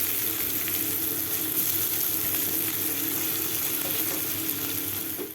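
Thinly sliced medium onion fries gently in oil with a steady, dense sizzle and faint stirring. The frying runs continuously from near the pan with no talk.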